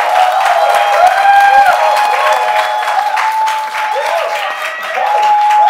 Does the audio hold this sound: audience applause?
yes